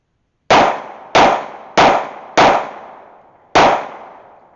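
A Colt Series 70 pistol fired in a shooting drill: five sharp, loud shots, the first four in quick even rhythm and the fifth after a short pause, each ringing out briefly.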